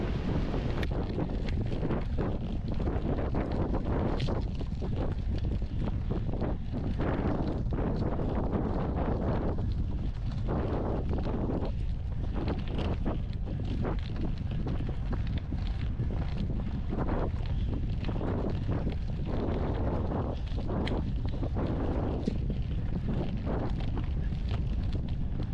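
Strong headwind buffets the microphone of a cyclist riding a gravel stretch of a gran fondo, a steady loud roar of wind noise that never lets up.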